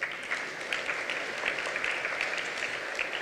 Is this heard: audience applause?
yes